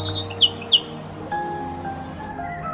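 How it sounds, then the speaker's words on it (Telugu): Birds chirping in an outdoor nature scene with dewy fields and flowering plants: a few sharp, bright tweets come early, then quieter sustained whistling calls continue over a soft ambient background, with no voices. "పక్షుల కిలకిల రావాలు"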